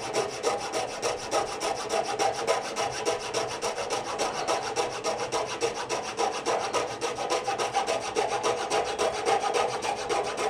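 A coping saw cuts through a wooden baseboard in steady, rapid back-and-forth rasping strokes, loud and close, with no talking.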